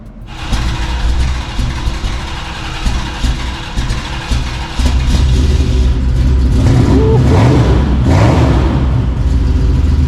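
A Mitsubishi Lancer Evolution VII engine cold-starts, cranking and catching, then revs hard and loudly, settling into a rough, throaty roar close by.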